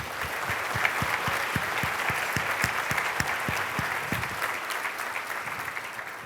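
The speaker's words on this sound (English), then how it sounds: "They definitely deserve a round of applause." Sustained applause from a large audience at a keynote speech fills the space, with a few louder, steady claps standing out near the front.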